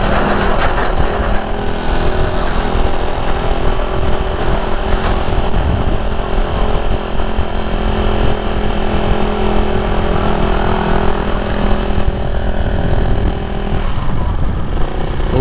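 A Husqvarna 401 motorcycle engine with its silencer removed runs steadily throughout at a constant idle-like drone, loud and close, with no talking over it.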